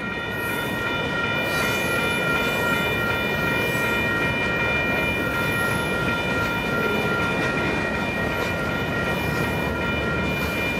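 Union Pacific mixed freight train led by EMD 9053 with distributed power locomotives, including a Kansas City Southern GE unit, rolling steadily past nearby with a continuous loud rumble and metallic wheel squeal sustained throughout.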